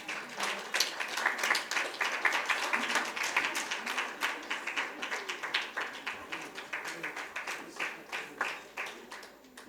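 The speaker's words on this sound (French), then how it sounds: "Est-ce qu'on peut se lever et applaudir bien fort le Seigneur?" A church congregation stands and applauds the Lord. The clapping starts loud and dense, then settles into a rhythmic, fairly even beat that gradually softens.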